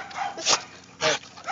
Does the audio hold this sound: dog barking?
yes